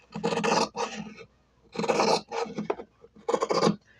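Scissors snip through waste fabric trimmed from a sewn jar gripper in three close, raspy bursts of cutting separated by short pauses.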